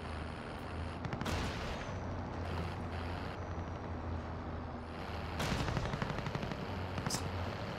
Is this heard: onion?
no